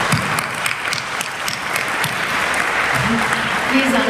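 Audience applause at the closing ceremony of the 2017 AFI Global Policy Forum, a dense, steady, close-up clapping that carries on without a break throughout.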